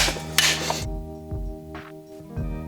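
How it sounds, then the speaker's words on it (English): A brass hammer strikes the flat end of a Willys jeep transfer case shaft during disassembly, giving a few sharp metallic whacks spaced about a second apart, close and fairly loud, with a ringing clink after each blow. "This is just the flat end with a brass hammer. Give it a few whacks."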